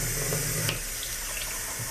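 Cool water runs steadily from a tap into a bowl, a close, continuous splashing hiss that changes tone slightly as it fills.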